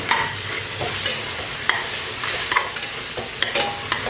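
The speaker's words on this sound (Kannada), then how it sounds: "ಈರುಳ್ಳಿ ಸ್ವಲ್ಪ ಹುರಿದಾದ್ಮೇಲೆ ನಾನೀಗ ಇದಕ್ಕೆ ಶುಂಠಿ ಬೆಳ್ಳುಳ್ಳಿ ಪೇಸ್ಟ್ನ ಹಾಕ್ತಾ ಇದ್ದೀನಿ" Onions frying with ginger garlic paste in a pan for a raw jackfruit curry, a steady close sizzle broken by repeated scraping stirs of a spoon.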